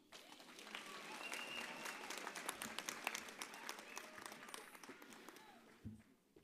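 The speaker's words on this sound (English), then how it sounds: "Another big round of applause" Graduation ceremony crowd applauding in a hall, a faint, distant patter of many hands with some voices mixed in, rising and falling before a thump near the end.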